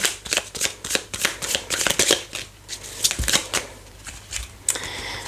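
Tarot cards shuffled by hand for a card reading, a rapid run of crisp riffling flicks and soft slaps repeating through the clip, close and fairly loud with no talking.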